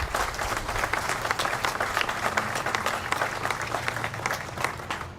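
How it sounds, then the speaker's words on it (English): A crowd at an outdoor groundbreaking ceremony for the West Side Market project in Cleveland gives a steady round of applause, dense overlapping claps holding at an even level throughout with a faint murmur underneath. "please give him a round of applause"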